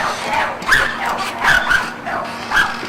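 A pit bull barks and growls at a man, heard as roughly four sharp, mid-loud bursts over about three seconds. It plays back through a device rather than live, with faint background noise between the barks.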